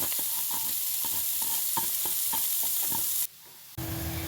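Carrots, cabbage and chili stir-fried in a pan for momo filling, a steady close sizzle with regular spatula scrapes, then a brief drop to near silence and a quieter hum.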